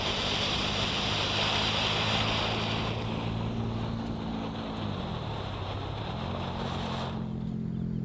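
Conic Fountain and Lovely Fountain fireworks spray together as a continuous loud hissing, crackling roar that holds steady for several seconds, then thins out near the end.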